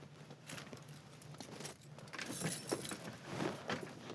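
Keys jangle faintly in short metallic bursts over a few seconds, with soft shuffling and movement nearby and no speech.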